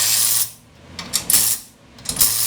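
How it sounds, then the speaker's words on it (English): A breaker bar tightens the front brake caliper bolt on a 2013 Ford F-150, giving two bursts of ratcheting clicks separated by short pauses, fairly close and with no talking. "So again, we're going to use the breaker bar"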